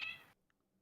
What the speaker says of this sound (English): Whose cat was that?